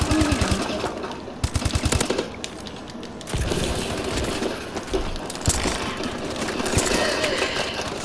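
Rapid automatic gunfire from the default weapon in Call of Duty: Advanced Warfare, loud close bursts of clattering shots with short pauses between, over a dense game soundscape of explosions and action.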